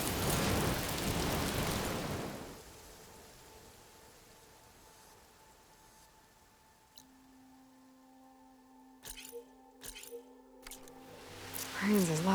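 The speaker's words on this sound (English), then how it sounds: "Rain's as loud as beating drums." Rain in Horizon Forbidden West, a steady hiss of downpour for the first couple of seconds that fades to a quiet ambient bed, followed later by a few sharp bursts.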